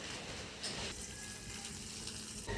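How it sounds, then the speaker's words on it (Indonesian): Water pouring as flowers are watered, a soft continuous splashing rush with a slight shift in tone partway through, quiet and steady with no talking. "Sekarang kita siram bunga dulu ya."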